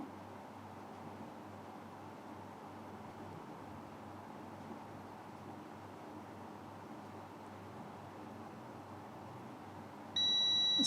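A multimeter buzzer checking a double-coil coupler in a mobile phone sounds a sudden steady beep right at the very end, after a long stretch of quiet room hiss.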